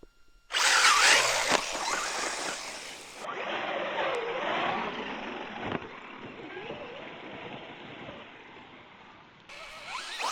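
A Traxxas Slash 4x4 RC truck, built as a basher, races past at a park with a loud, steady electric motor whine. The whine shifts in pitch as the truck launches off a picnic table and passes close by.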